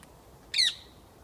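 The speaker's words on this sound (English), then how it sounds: "That's about as close as you want to get to one of these parakeets, because they make quite a lot of noise." A single loud, harsh parakeet squawk close by at a park in Kew, rising abruptly and fading within a quarter second against quiet surroundings.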